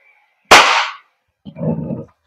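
A WE Hicapa T-Rex gas blowback airsoft pistol fires one sharp, loud crack, followed about a second later by a shorter, duller mechanical clack, with no talking.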